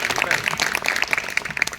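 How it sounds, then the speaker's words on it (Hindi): Audience at a gathering clapping, a short burst of quick applause mixed with crowd voices and talk. "ताली बजा दो भाई"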